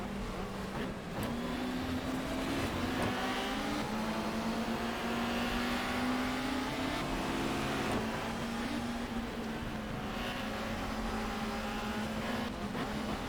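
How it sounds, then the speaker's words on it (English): Race car engines and exhausts in the GTR 2 racing game during a 1994 BTCC touring car race at Brands Hatch Indy, a steady droning engine note with shifting pitch held continuously over a noisy track bed, without speech. "Their exhaust pipes are annoying me as well."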